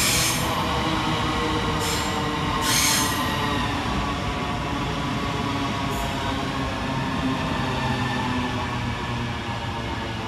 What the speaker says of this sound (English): Next arrival into the station is 395010, working the 1636 Southeastern High Speed Service and London St Pancras International to Faversham.